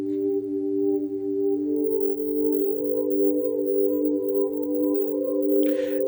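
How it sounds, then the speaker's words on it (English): A warm keyboard synth pad patch named Simple Air, used for worship playing, holds a soft, steady sustained chord that swells gently, with a brief faint noise near the end. "The first one is just a very warm pad. And that one is called Simple Air, and it sounds sort of like this."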